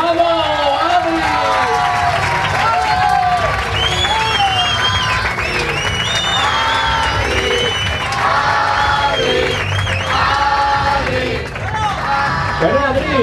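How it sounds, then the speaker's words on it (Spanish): Loud, continuous applause and cheering from a crowd at a sports club awards ceremony during a spring fair in Rota, honoring coach Lolo Barba, with whoops and shouting voices over the dense clapping throughout. "Yo creo que le debiéramos dar todos un fuerte aplauso."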